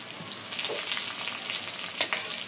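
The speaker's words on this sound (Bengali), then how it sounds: "পেঁয়াজ দিয়ে একটু ভাজিয়ে নেব, তেজপাতা আর একটু গরম মশলা" Onion sizzling in hot oil in a pan with bay leaf and garam masala, a steady close crackle with a few brief stirring clinks and no talk.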